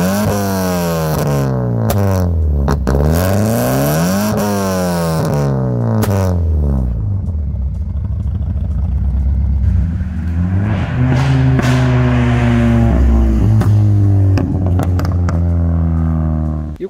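A Chevrolet Astra Sunny fitted with a tuned 2.4 8V Blazer engine drives at an easy pace. The engine note climbs through repeated gear pulls, then settles into a steady, close cabin drone with a low rumble.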